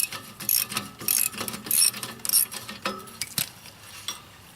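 A wrench turns bolts on a tiller tine of a John Deere 4105 with a series of close metallic ratcheting clicks and clanks in uneven bursts, fading to quieter handling sounds.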